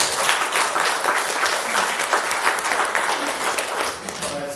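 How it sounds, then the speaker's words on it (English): An audience at a youth dialogue on AI applauds the panelists with sustained, dense clapping that fills the room steadily before tapering slightly near the end. "please, a round of applause for our panelists"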